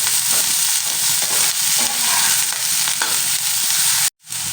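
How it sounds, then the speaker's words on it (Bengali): Steady loud sizzling of eggplant frying in a little oil, a continuous crackling hiss that briefly drops out near the end. "খুব কম তেলে আজকের আমি এই বেগুনগুলো ভাজা করবো"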